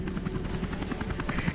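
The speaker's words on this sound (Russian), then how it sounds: "Вертолет Нисимуры ждет тебя снаружи" A helicopter in Tomb Raider: Legend, waiting outside on the Japan level, gives a steady, close whirring drone with rapid rotor thumps throughout, and nothing else is heard.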